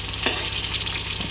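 Eggplant pieces for a rohu fish curry with potato sizzle and fry steadily in hot oil in a pan, a close, continuous crackling hiss with no talk.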